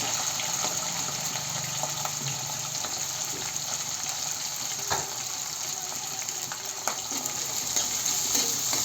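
Onions frying in a pan for Telugu boti curry, a steady sizzle close by with stirring scrapes, a few sharp clicks and water-like hiss running throughout, no voices.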